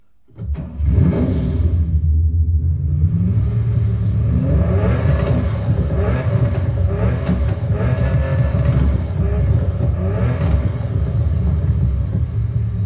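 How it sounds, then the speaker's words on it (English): A high-revving naturally aspirated car engine runs steadily and loudly throughout, its pitch climbing and falling through repeated rev sweeps with a rumbling, whirring tone and no talk over it. "So it's still a natural aspirated one, but with much higher RPMs, and this sound this way."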